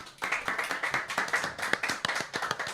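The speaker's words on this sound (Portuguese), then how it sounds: "quero também pedir uma salva de palmas à nossa plateia imensa" An audience claps and applauds at a live event, a dense, steady patter of many hands kept up for a few seconds with no talk over it.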